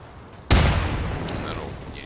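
A grenade detonates in a video game, a single sharp, loud blast after a brief quiet lead-in, followed by a long rumbling decay.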